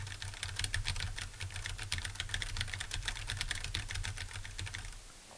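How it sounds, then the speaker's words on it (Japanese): Typing on a computer keyboard about 30–40 cm from a Shure MV7 dynamic microphone: a steady, dense stream of crisp key clicks for several seconds, slightly distant, with no voices. "じゃあキーボードを叩いてみたいと思います。"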